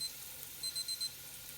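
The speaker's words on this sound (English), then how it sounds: "That was a 6-minute timer I had on." A kitchen timer set for roasting pumpkin seeds rings with a quick series of high electronic beeps, a short burst at the start and then four evenly spaced pips, faint over a quiet room hum.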